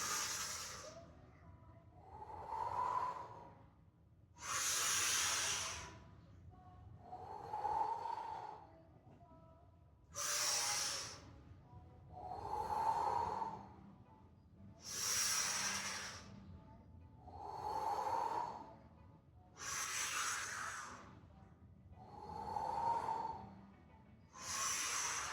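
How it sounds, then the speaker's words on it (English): Slow, steady mouth breathing during a breathing exercise, with about ten paired cycles of airy hissing inhales and softer, lower exhales, close and unhurried with no talking. "and switch to mouth breathing."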